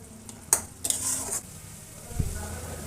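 Spices for a crab curry stir-fried in a pan: a few sharp clinks of a spoon against the pan, scraping strokes, and a faint steady sizzle underneath, close and fairly quiet.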